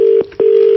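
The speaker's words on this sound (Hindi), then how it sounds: "गलती से फोन कट गया था।" A phone call cuts off with a tone: two loud, close beeps of one steady pitch separated by a short gap, the second held to the end.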